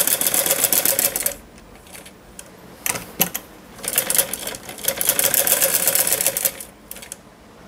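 Close-up bursts of a sewing machine stitching a mohri cuff design, rapid mechanical clatter running in several separate runs with short pauses between them.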